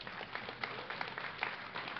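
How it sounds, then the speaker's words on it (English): Audience at a DreamHack StarCraft II esports event clapping and cheering, a dense steady patter of applause through the whole stretch, mid-distance and moderately loud. "make some noise for the comeback French champion, MAdelScott."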